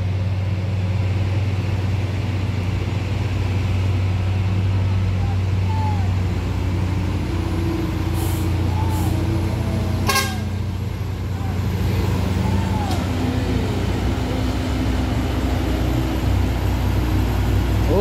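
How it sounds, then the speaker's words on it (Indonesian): Heavy trucks grinding up a steep hill, among them a tanker hauling palm oil and a truck loaded with motorcycles, give a steady low engine drone throughout, with a few faint higher chirps above it. "Di sana ada truk muatan sepeda motor, ada tangki"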